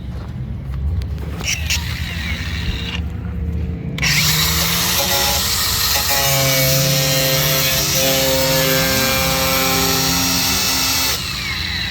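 A power tool trims fiberglass from a drift car's side skirt, whining loud and steady with changing pitch for most of the span after a rougher noisy start.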